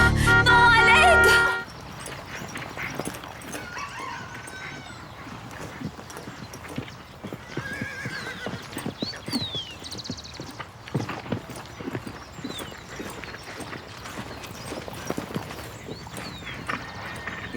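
A horse moves with steady clip-clop hoofbeats across the ground, following a loud burst at the start, with occasional higher calls that may be whinnies and faint voices mixed in.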